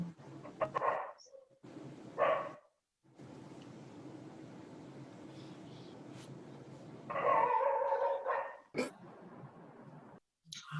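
A dog yelps and whimpers in short bursts at close range, with brief high squeaks and quiet pauses between them.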